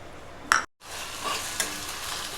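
Two onions fry in oil in a pan for chicken biryani, giving a close, steady sizzle with one sharp clatter near the start and a brief drop to silence.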